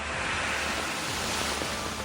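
Strong wind and rain lash a market, a dense continuous roar of gusts and downpour with no voices.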